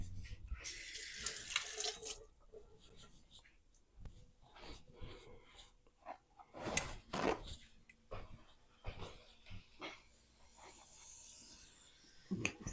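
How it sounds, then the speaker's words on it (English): A spoon rinsed under a running kitchen tap while cooking turkey wings, water splashing in short uneven bursts at close range, fairly quiet with clattering between streams. "Let me rinse the spoon just in case."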